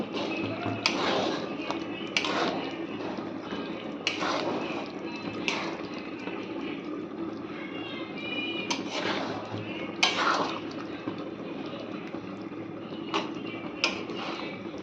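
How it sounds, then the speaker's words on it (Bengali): Garam masala being stirred into chicken curry in a pan, with repeated scraping and clinks of a spoon against metal at a steady working rhythm, close and moderately loud. "এখন এটাকে ভালো করে মিশিয়ে নেব চিকেনের সাথে।"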